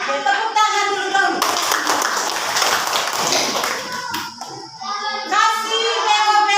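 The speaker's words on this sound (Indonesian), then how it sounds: "Oke, tepuk tangan dulu dong." A classroom of elementary schoolchildren bursts into a few seconds of dense, close group clapping, with children's voices talking just before and after it.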